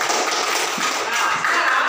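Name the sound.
classroom applause for a group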